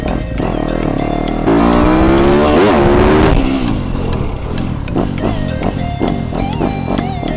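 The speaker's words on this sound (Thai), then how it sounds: "เดี๋ยวยกล้อมาเลยดีกว่าครับเพื่อนๆทุกคนครับ" A heavily modified 2021 Yamaha YZ250F Monster Energy dirt bike revs hard and loud close by, its engine pitch climbing and falling in repeated throttle bursts as the front wheel lifts, with clattering mechanical noise and no talking.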